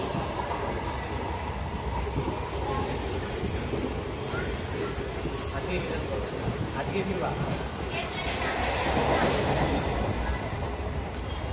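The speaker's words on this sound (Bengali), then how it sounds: "ট্রেন ঢুকে গেল ময়নাগুড়ি রোড স্টেশনে" A local train rumbles steadily along with continuous rolling and rattling noise as it pulls into Moynaguri Road station, and a voice speaks briefly over it.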